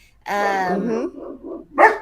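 Several dogs bark and yelp close by, a long harmonic howl-like bark followed by shorter broken barks and a final sharp yip.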